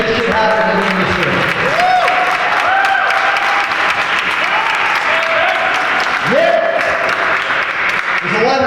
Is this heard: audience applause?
yes